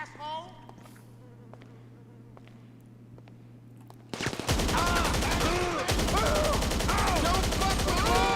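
A rapid magazine dump of automatic gunfire in GTA 5 Online erupts suddenly after quiet, continuing as a dense, loud, sustained burst for about four seconds.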